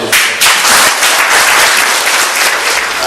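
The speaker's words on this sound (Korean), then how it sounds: "여러분도 좋아하시면 박수 한번" Loud, dense audience applause fills a concert hall on the last night of October, a steady continuous wash of many hands clapping from start to finish.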